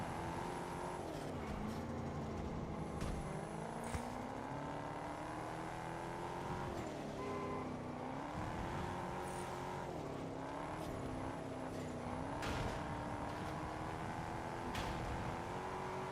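Modified car engine in the racing video game Test Drive Unlimited Solar Crown, droning steadily with repeated rises and falls in pitch as it revs and shifts through gears, loud and continuous with other cars audible around it.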